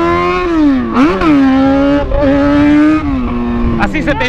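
A motorcycle engine revs loudly and up close, its pitch rising and falling through several throttle blips at night, while people talk over it.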